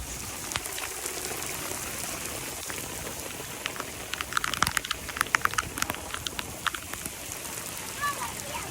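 Rain falls in Karachi with steady patter and scattered drops hitting surfaces up close, rising briefly in the middle, while a person talks.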